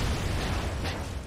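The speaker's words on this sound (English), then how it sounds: "Why are you throwing grenades?" A grenade blast in the 2009 shooter Wolfenstein, a dense, rumbling explosion filling the whole moment with a heavy low boom and a brief crackling burst, loud and close with no talk over it.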